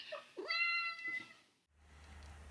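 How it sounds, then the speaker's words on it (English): A domestic cat meows close by, two or three drawn-out, wavering meows in quick succession, followed by a low hum in an otherwise quiet room. "my cat's just come in"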